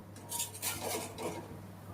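Quiet scraping and clinking as a whole mung bean chilla is flipped in a pan, a few soft brief knocks over a faint steady background hum.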